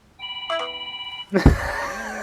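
A phone rings on a call, a short electronic ring tone with stacked high tones, then a sudden loud noisy burst cuts in and continues as a rough, broadband clatter.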